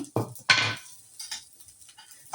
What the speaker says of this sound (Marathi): तर आता मी घरातच कढईमध्ये हुरडा भाजत आहे.